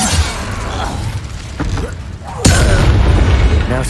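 A magical Incendio fire spell in Hogwarts Legacy erupts as a sudden loud, roaring burst that sustains amid dense combat noise, with battle sounds rumbling beforehand.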